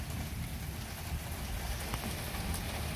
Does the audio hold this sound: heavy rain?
yes